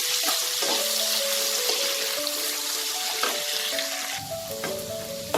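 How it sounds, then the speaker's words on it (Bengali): Potatoes frying in oil with salt and turmeric, a loud, dense, steady sizzle close by, with a few stirring scrapes and a brief louder crackle near the end. "নুন আর হলুদ দিয়ে এটাকে একটু ভেজে নেব"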